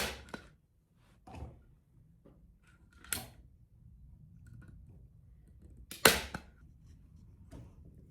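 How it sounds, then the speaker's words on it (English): A handheld staple gun fires staples through upholstery fabric into a dining chair seat, giving four sharp, close snaps spaced a second or two apart with quiet handling noise in between. "I've got my staple gun and I'm just going to staple this and then pull it"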